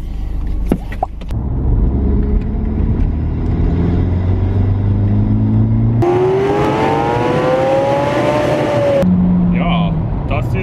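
A Mk4 Golf GTI being remapped, its engine pulled at full throttle with a loud, rising rev that climbs steadily, cuts off sharply, then drops back.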